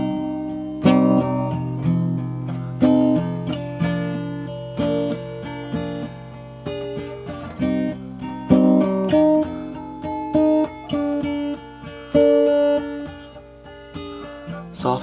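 An acoustic guitar is strummed with the fingers in a repeating soft-then-hard pattern through chord changes, close and moderately loud, with no talk over it.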